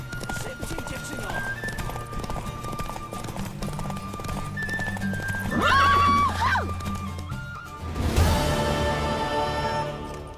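Horse hooves clip-clop at a gallop in The Witcher 3, with neighs and whinnies rising over a steady rhythm, mixed with game music and voices talking.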